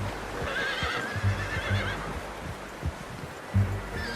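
A horse in the video game Red Dead Redemption 2 lets out a high, wavering whinny, with steady low thuds of hooves clip-clopping underneath amid soft outdoor ambience.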